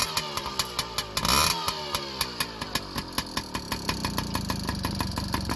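A rebuilt big-bore 1983 Yamaha PW50 motorcycle engine runs close by, popping in a rapid, even two-stroke rhythm with a brief louder rev near the start, then settles into a steady idle.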